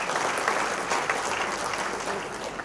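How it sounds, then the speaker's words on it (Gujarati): Sustained applause from a large audience at a Gujarati cultural gathering, steady and dense with no pauses, loud and close throughout. "એના માટે એકવાર ખૂબ જોરદાર તાળીઓ પાર્થિવ ગોહિલ અને અજીતભાઈને જવી જોઈએ."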